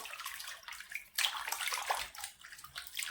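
Water sloshing and splashing as potato slices for wafers are rubbed and rinsed by hand in a basin, with irregular bursts of swishing; no talking.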